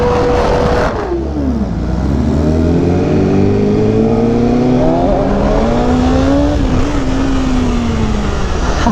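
A BMW S1000RR superbike with an aftermarket exhaust revs hard at a car meet. The engine sweeps up and down in pitch in several long, loud, close pulls with a raspy, continuous roar and no voices.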